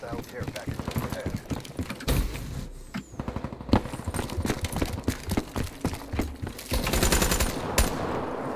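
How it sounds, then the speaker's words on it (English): Hardcore team deathmatch combat in Black Ops 3: rapid automatic gunfire in bursts and sharp single shots, fairly close and loud, mixed with clattering mechanical noise and brief pauses between volleys. "I heard firing and saw bullets"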